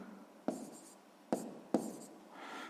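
Pen strokes scratch numbers into a notebook during a sixth-grade maths exercise: three short, close, dry scribbles spaced apart over quiet room tone.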